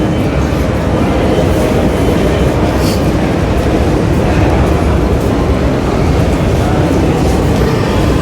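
A loud, continuous rumble and roar of a metro train running through the underground Colosseo station in Rome, steady throughout with faint rhythmic clatter.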